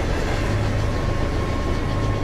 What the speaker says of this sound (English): Even though the train is bouncing around,